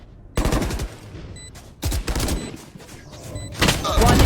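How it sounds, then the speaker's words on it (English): Bursts of automatic gunfire and single shots crack in the Valorant video game during an esports match, several volleys separated by short gaps, loud and close. "Bullets exchange there, unable to find the kill."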